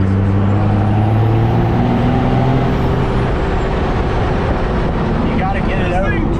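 Loud, steady engine roar from a built 12-valve Cummins diesel truck accelerating in fourth gear, with a low, droning drone throughout and people talking over it.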